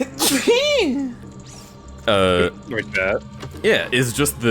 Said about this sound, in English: well, no, that was a sneeze